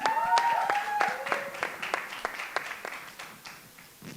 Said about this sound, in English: A round of applause once again for our dear friends.